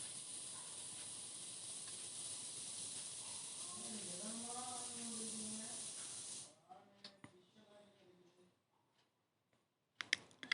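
Dry red chillies sizzling in hot oil for chicken fried rice, a steady loud hiss that cuts off abruptly partway through, leaving quiet clicks, with someone speaking over the sizzle.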